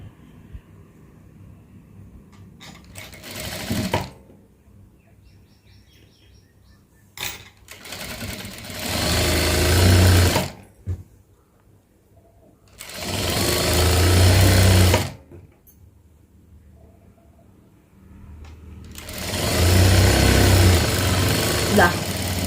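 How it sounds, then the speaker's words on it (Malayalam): Three long, loud runs of a sewing machine stitching a frock, with a steady mechanical whir, separated by quieter stretches with light handling noise. "ഇതാ ഫ്രോക്ക് തയ്ച്ച് കഴിഞ്ഞു"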